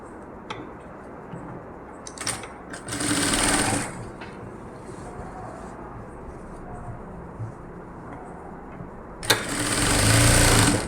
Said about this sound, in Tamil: ஓரத்துலேருந்து அப்படியே தைச்சிட்டு வாங்க.